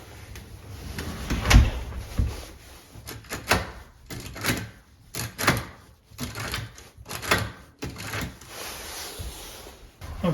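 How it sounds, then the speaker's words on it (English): A door fitted with a Eufy Smart Lock Touch is closed and its lock tested indoors, giving a series of close, sharp clicks, knocks and mechanical rattles of latch and bolt, with a louder thump near the start. "we're going to go ahead and close the door and test out the lock again"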